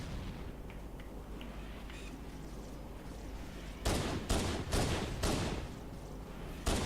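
Covenant turret gunfire in the Halo 1 video game on Xbox One, a run of loud, sharp bursts of alien machine-gun fire going off in quick succession over a steady low battle rumble.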